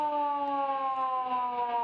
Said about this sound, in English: the siren sounds to end a prolific first quarter for the Bulldogs